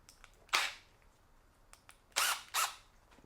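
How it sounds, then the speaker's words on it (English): A Milwaukee installation drill/driver runs in short bursts: one quick whir, then two more brief spins a moment apart, close and fairly loud against a quiet background. "You literally just use it as a drill."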